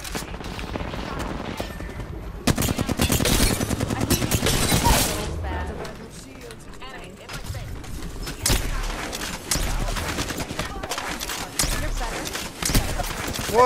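Rapid bursts of gunfire from an Apex Legends match in Season 18, loud and close, with sharp repeated shots clustering in dense volleys between brief lulls, layered over other game effects and occasional talk.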